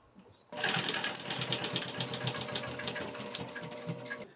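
An industrial sewing machine stitches zippers onto a custom Brompton bike flight box and trailer. It starts abruptly with a steady, fast mechanical chatter and runs continuously for about four seconds at moderate loudness.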